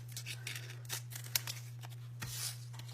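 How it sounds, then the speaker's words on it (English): Scissors snip through folded paper while a snowflake is cut out, a handful of quick, crisp, faint cuts spaced irregularly over a low steady hum, with no talking. "I'm just going to cut it at an angle"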